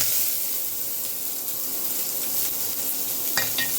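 Black cumin seeds, whole dried chilies, chopped onion and garlic frying in hot oil, giving a dense, continuous close sizzle with a brief clatter near the end.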